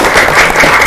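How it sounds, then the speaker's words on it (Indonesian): Audience in a gathering of community leaders and neighborhood heads in Samangraya, Cilegon, applauding a mosque committee's first-place city win; brief, dense, steady clapping filling the moment with no speech. "Tepuk tangan dulu dong."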